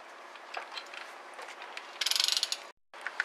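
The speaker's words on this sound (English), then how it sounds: "we're going to go ahead and tighten them down to 60 inch-pounds" A ratchet clicks while threaded studs are tightened into the intake manifold of a Cummins common-rail engine, a close burst of rapid pawl clicks rising midway before the clip briefly drops out.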